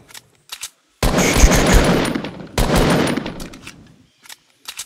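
Gunfire in the Fortnite video game: two loud, sustained bursts of rapid automatic fire, each lasting over a second, with a few short single shots before and after.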